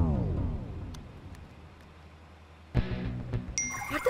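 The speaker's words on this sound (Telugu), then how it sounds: "ఫోన్." A phone message notification chime: a brief, bright electronic ding near the end, after fading ringing tones and a short clatter.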